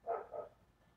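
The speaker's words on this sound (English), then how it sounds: "you hear the dogs barking and stuff like that" A dog barking in a rural backwoods setting, two quick muffled barks close together, then quiet.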